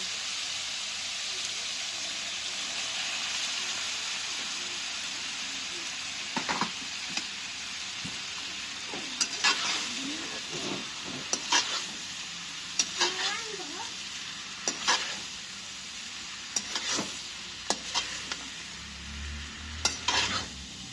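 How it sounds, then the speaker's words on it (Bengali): Noodles and pasta stirred together in a pan of hot oil, a steady soft sizzle under repeated sharp scraping and clattering strokes of the spatula, growing busier toward the end. "নুডলস গুলা নাড়াচাড়া দিয়ে আলগা করে দিই"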